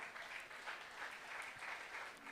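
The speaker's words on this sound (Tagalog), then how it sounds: "Tanan mo palakpak sa atong Ginoo." A church congregation claps during a Sunday worship service, a faint, distant and even patter of many hands that keeps going for the whole stretch.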